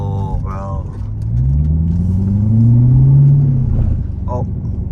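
Chevrolet C7 Corvette engine revving with the transmission failing to shift gears, a low droning rumble that climbs steadily in pitch and loudness before easing off, with people talking briefly over it.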